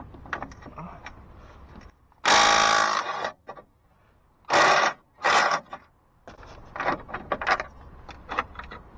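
A ratchet on a swivel socket loosening an 18 mm control arm bolt on a PT Cruiser, three loud, close bursts of rapid clicking, with someone talking before and after.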